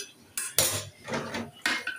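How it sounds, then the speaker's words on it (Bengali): Metal frying pan set down on a stove, several sharp clanks and scrapes of cookware in quick succession, close and alone. "চুলায় একটা প্যান বসিয়ে দিলাম।"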